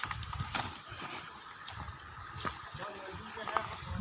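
A small mountain stream trickles and gurgles softly along a rocky channel, a faint, continuous wash of water heard from close by, with quiet voices and footsteps in the background.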